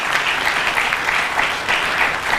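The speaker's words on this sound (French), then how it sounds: "applaudissons une fois de plus Madame Rina" Audience applause for Madame Rina at a Christian literature fair in Kinshasa: a dense, steady wash of many hands clapping, loud and sustained throughout with no voices over it.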